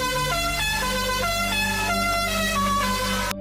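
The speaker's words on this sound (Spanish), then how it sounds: "Tocó un bocinazo que sonó con la melodía de la cucaracha." A car horn, from a rather rundown Renault 4, honks out the La Cucaracha tune as a run of stepped musical notes, loud and sustained with no talk.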